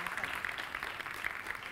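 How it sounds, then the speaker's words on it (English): Audience applause for the judges at a FameLab international science communication semi-final, a faint, distant wash of clapping with some crowd noise, heard only briefly. "can we give our judges some applause for the task ahead?"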